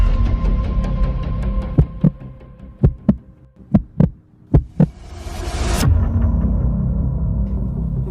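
A hard pounding heartbeat sound effect thumps in a steady run of deep beats over a low rumbling hum, then swells into a rising whoosh before the drone carries on.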